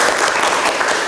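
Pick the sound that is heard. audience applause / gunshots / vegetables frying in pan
audience applause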